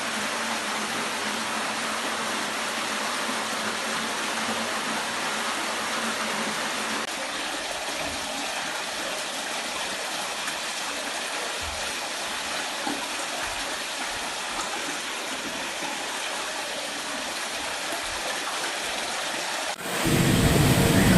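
Floodwater rushes loud and steady through a street in Venice, a continuous broadband roar that carries on without a break and then gets noticeably louder near the end.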